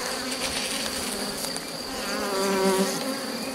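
Honeybees buzz densely and steadily on a hive frame lifted from a queenless, drone-laying colony, a close continuous drone with a brief higher whine rising near the end, no voices.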